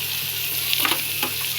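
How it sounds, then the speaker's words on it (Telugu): Tomato, onion and cashews sauté in oil in a pan, making a soft, continuous sizzle with a couple of light stirring touches. "కొంచెం జీడిపప్పు కొంచెం ఆయిల్లో కొద్దిసేపు మగ్గించుకోవాలండి"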